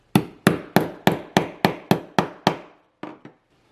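A hammer strikes rivets on a leather lanyard strap, eight sharp, evenly spaced blows followed by two lighter taps, close and distinct with no other sound.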